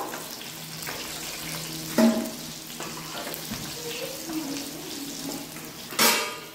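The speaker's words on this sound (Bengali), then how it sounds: "আলুগুলো ভালো করে লাল লাল করে ভেজে নিয়েছি, এবার তুলে নেব" Potatoes fry in oil in a pan until reddish-brown, giving a soft, steady sizzle with a couple of sharp utensil clanks against the pan.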